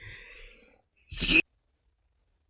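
A single short, sharp sneeze during a podcast conversation, a brief burst after a soft breathy intake, close to the microphone and followed by silence.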